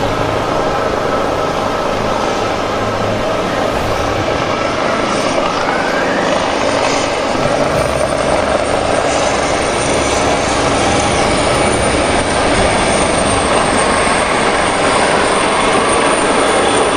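Military aircraft fly over an Independence Day national parade in Trinidad and Tobago, a steady loud engine and rotor roar that holds throughout without pause.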